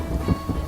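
Cartoon rain hisses steadily throughout with a low rumble of thunder swelling briefly in the middle, dense and close, no voices.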